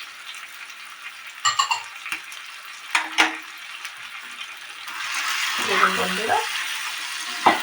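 Grated carrot and beetroot being stir-fried in a pan for a Bengali veg chicken chilli dish, a steady soft sizzle rising in the second half, with a few clinks and a voice speaking briefly near the start.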